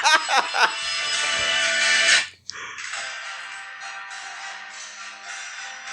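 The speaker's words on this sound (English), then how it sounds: "here's the ringtone is the Sherlock Holmes BBC" A phone ringtone playing the BBC Sherlock Holmes theme rings out loud and close, with a brief cutoff partway through before the tune carries on steadily to the end; no one speaks.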